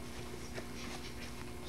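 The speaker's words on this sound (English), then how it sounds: "It's making the dog very wild over here." An excited dog is heard nearby at low level, with panting and faint whimpering over a steady hum, in a home setting.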